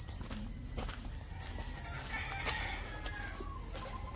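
Chickens cluck and a rooster crows near a backyard bird coop, with footsteps and faint shuffling close by.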